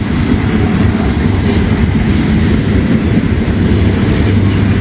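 A freight train rolls past close by, a loud, steady rumble of wheels and cars with a faint clickety-clack that never lets up.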